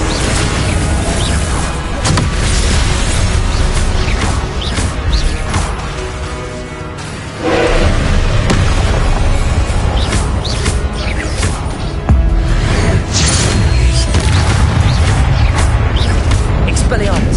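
Repeated fire-curse blasts explode in a Hogwarts Legacy combat fight, loud booming crashes and whooshes tumbling one after another under constant game music and effects.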